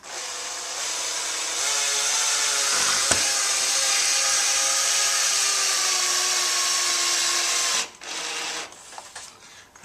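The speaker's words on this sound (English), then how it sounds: "I always slow the drill down, have it on low power to give you a little extra torque." A power drill set to low speed whines steadily at a low, even speed for several seconds while fitting a wooden blind, then stops with a few clicks and clatters.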